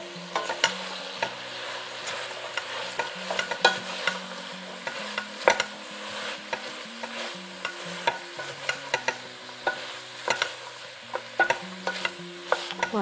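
Carrots and leek stirred in a pot for a vegan spiced tomato and semolina soup, with a steady run of spoon scrapes and soft clacks repeating throughout over a faint low sizzle, close up and with no talking.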